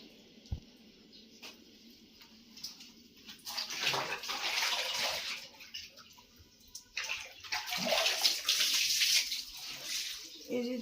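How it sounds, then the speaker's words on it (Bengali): Water splashes and pours into a tub or basin while clothes are put to soak for washing, in irregular sloshing bursts that swell and fade, fairly close and moderately loud. "এখন মা কাপড় চোপড় ভেজাচ্ছে।"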